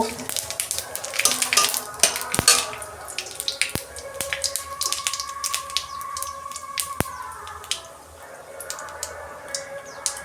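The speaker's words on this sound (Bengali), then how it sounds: "গোটা জিরে দিচ্ছি অল্প" Whole cumin seeds sizzle in hot oil in a home kitchen, a steady crackling fry with scattered pops and sharp clinks of utensils, while a voice talks over it.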